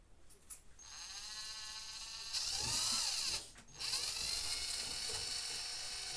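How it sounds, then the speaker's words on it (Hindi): An EON 12 V DC cordless drill runs at high speed, its motor giving a steady high-pitched whine that revs up, dips briefly and then holds on, with no one talking. "जब भी ड्रिल मशीन चलती है तो इसमें स्पीड काफी ज्यादा तक हद तक है।"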